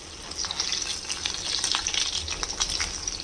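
Soya chaap pieces frying in hot oil, a close crackling sizzle with rapid irregular pops and spatters over a steady hiss, continuous throughout without any speech.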